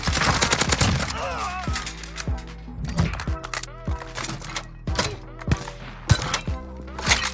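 Rapid bursts of gunfire from the video game Call of Duty: Warzone, played on PS4 Pro, with repeated sharp shots and short automatic volleys running throughout, loud and close, while players talk over the action.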